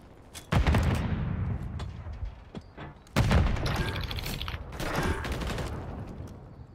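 Gunfire in the shooter Modern Warfare 3 on the Shoot House map: two loud bursts of rapid shots, one near the half-second mark and another from about three seconds, with crackling fire continuing between them and no talk.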